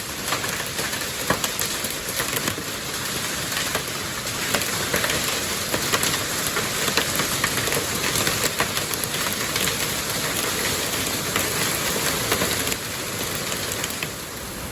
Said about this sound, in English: Sounds like that hail start. I can see it, 15 millimeters. 15 millimeter hail.